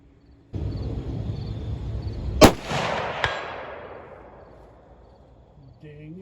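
A rifle round, 5.56mm M855 or .308, is fired at a Caldwell 8-inch AR500 steel gong hung on chains, giving one sharp loud crack with a second fainter impact just after and a long fading echo outdoors.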